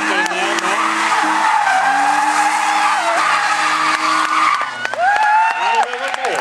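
A drift car at a drifting competition in Bivaröd slides with long, loud, wavering tire squeals and skidding over engine noise, the screech rising and breaking off several times while a commentator talks.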